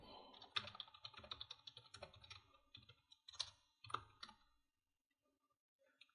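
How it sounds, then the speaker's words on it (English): Fingers type on a computer keyboard in a quiet, close run of soft clicks and key taps that thins out and stops near the end. "Then you type out the question that you'll ask."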